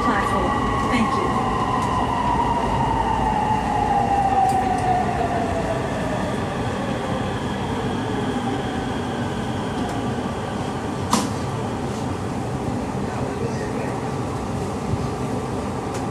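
Interior of a Japanese-made Bangkok MRT Purple Line train running between stations, a steady rumble with a long descending whine from the traction motors and a brief sharp click near the end.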